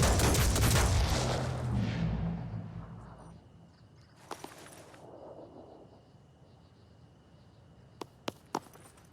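Heavy bursts of gunfire and explosions from a squad battle in the turn-based strategy game Phoenix Point, loud at first and then fading into a quiet rumble, with a few sharp isolated shots near the end.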